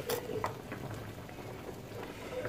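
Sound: water boiling with onions in a pot

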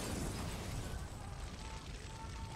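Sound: grenade explosion in video game Far Cry 5

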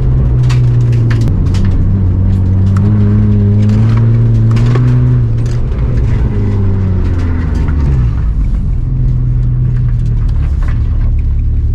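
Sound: car drifting, engine and tyres

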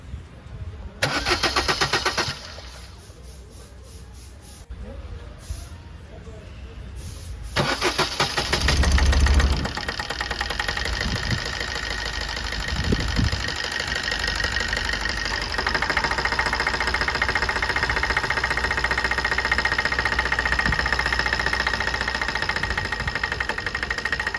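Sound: Maruti Swift engine misfiring

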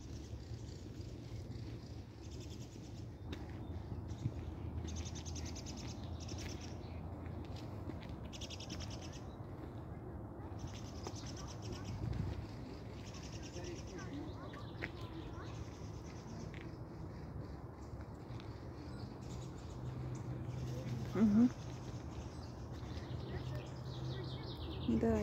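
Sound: birds singing in a park, tits and thrushes

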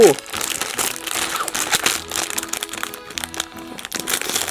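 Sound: opening wrapper of Oreo BLACKPINK card pack

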